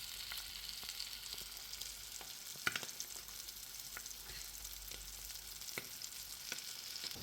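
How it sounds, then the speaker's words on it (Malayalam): King mackerel coated in masala of ginger, green chilli, garlic and fennel fries in a pan, a quiet, even sizzle with small scattered pops and crackles and no voices. "വാങ്ങിയിട്ട് നല്ല മസാലയൊക്കെ പുരട്ടിയിട്ട് ഫ്രൈ ചെയ്യാൻ വെച്ചിട്ടോ"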